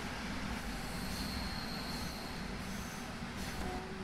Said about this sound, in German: Da kommt ein anderer Zug angefahren.